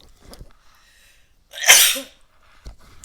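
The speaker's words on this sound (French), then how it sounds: "Excusez-moi, je vais éternuer." A single sharp sneeze bursts out close up after a quiet breath, loud and brief, followed by near silence.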